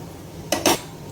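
A spoon scrapes twice in quick succession against a pan while ridge gourd and chana dal curry is stirred, two short metallic strokes over a steady low background.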